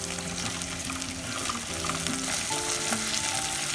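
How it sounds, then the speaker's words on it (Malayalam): Onions and curry leaves fry in a pan for a soya chunks dish, giving a constant close crackling sizzle under faint background music tones with no talk. "ഉള്ളി നല്ലോണം ഫ്രൈ ആയിട്ടുണ്ട്"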